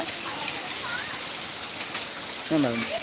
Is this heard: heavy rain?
yes